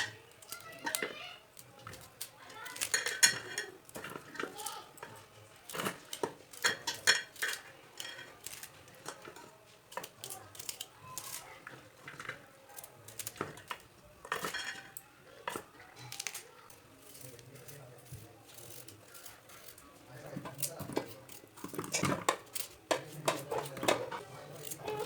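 A knife chops potatoes into small pieces in a home kitchen, with irregular close taps and clicks against a cutting surface. A voice talks over parts of the chopping.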